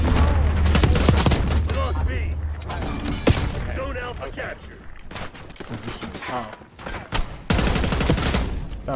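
Rapid rifle fire in Black Ops 6, with SVD sniper rifles shooting down a hallway. Loud, repeated cracking shots come in clustered bursts under an excited voice talking throughout.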